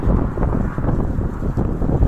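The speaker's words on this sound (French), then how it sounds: "Le vent c'est dur." Strong wind buffets a cyclist riding a mountain bike on the road between Xeraco and Calp in Spain, a steady loud rumbling roar with gusty surges that never lets up.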